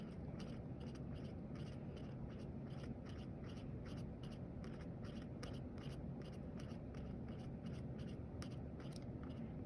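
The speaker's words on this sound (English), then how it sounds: "So circulism, repetitive circles. So you're just drawing" An ink pen scratches small repetitive circles onto paper, a faint, steady scritching with a quick rhythmic pulse that continues without a break.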